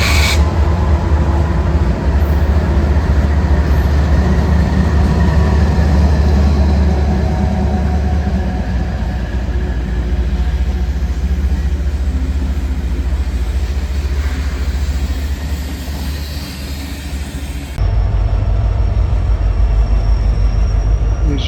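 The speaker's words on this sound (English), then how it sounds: "These are trains that are passing through and switching at the Roseville train yard." Union Pacific locomotives and railcars passing and switching in the Roseville, California rail yard, a steady loud low rumble of engines and rolling cars throughout, with a brief shift near the end.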